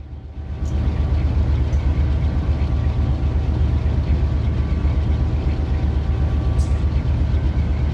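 Heavy freight train rolling through the Mojave Subdivision in California, heard from inside the locomotive cab as a steady low diesel rumble with rail noise, close and continuous, with no talk.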